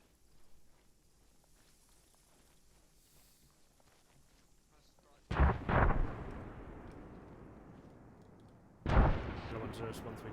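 Mortar rounds landing during airborne platoon patrol training, two heavy, deep blasts a few seconds apart with a lingering rumble, breaking a quiet outdoor background.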